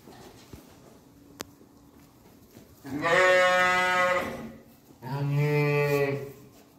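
Two loud, wavering bleats from Zwartbles lambs, one after the other, sound nearby on a farm over a quiet background with a few soft knocks.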